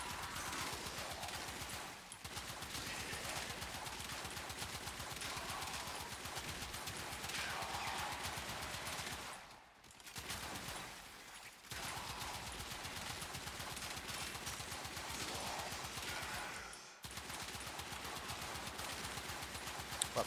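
Knell Prime semi-automatic weapon firing in Warframe, a rapid, steady stream of sharp shots running almost nonstop, with a few brief pauses, loud and close.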